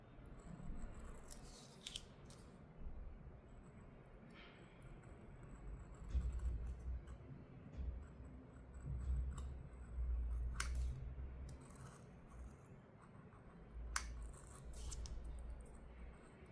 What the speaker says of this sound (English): You can use a cutter just to follow the edge.